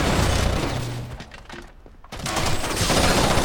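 Explosions and gunfire from Rainbow Six Vegas 2 during a competitive LAN match, with grenades raining down on a spawn area: a dense, loud barrage of blasts and shots, briefly dipping before erupting again.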